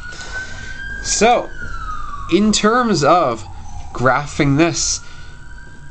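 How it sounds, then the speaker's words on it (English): Emergency vehicle siren passing outside, a wailing tone sweeping up and down at moderate distance, largely under a person speaking steadily in the foreground. "Excuse the siren."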